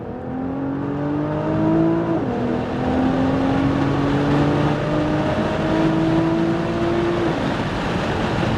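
Nissan GT-R R35 accelerating hard on a track, its engine note climbing steadily, dropping briefly at a shift, then climbing again, loud and close with tyre and wind roar throughout.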